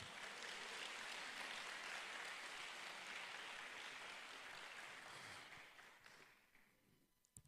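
A church congregation at a Sunday service applauds in a sustained wash of clapping that holds steady, then fades out toward the end.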